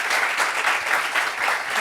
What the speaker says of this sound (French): Applaudissements pour elle aussi.